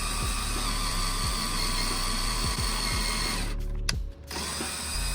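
A power drill whines steadily and loudly as it bores a hole in a Sea-Doo RXP-X 300 fender. The drill briefly cuts out near the end, then resumes.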